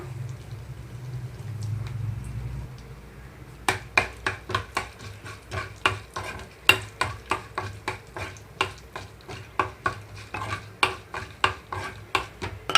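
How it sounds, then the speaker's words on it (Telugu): A spatula strikes and scrapes a pan in a quick, steady rhythm as tempering seeds and dried red chillies fry faintly in oil underneath. "తాలింపు గింజలు అలాగే ఎండుమిరపకాయలు వేసి వేయించుకుంటున్నాను"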